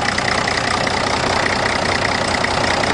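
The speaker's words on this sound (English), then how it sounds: "Runs nice, you know, having a big motor." A big-motored riding lawnmower idles steadily close by, giving a continuous even engine drone with no talk over it.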